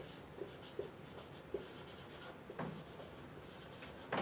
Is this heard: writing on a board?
yes